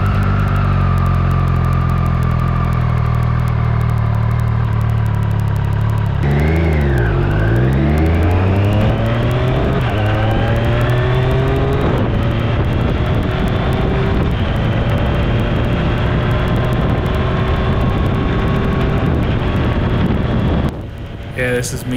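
A 2020 Triumph Street Triple RS with an Akrapovic exhaust, freshly flashed with a software upgrade, pulls away from a dealership; the engine revs rise and fall through gear changes, loud and close under steady wind rush.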